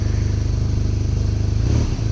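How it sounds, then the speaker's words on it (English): A BMW motorcycle engine idling at a fairly high, fast steady pulse, close and loud, with a small rise and dip in revs near the end as it begins settling down. "First it is like revving high once you start it, and then slowly it goes down."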